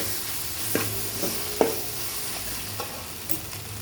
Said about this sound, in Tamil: அப்படியே கிண்டிக்கிட்டே இருங்க வதக்கிட்டே இருக்கணுங்க